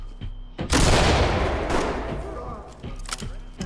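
A flashbang grenade detonates with a single loud, close blast in the video game Ready or Not, followed by a long ringing, decaying wash of noise and a few faint clicks afterward.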